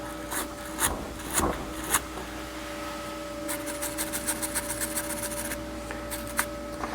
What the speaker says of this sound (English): See if I can get my little wire brush, maybe get some of that off there.